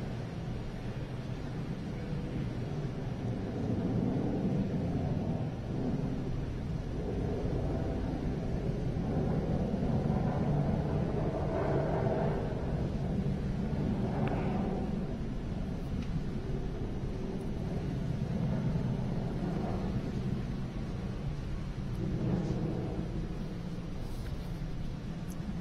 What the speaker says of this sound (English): Merlin engines continue to perform nominally